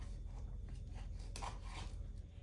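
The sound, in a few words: knife cutting a lime in half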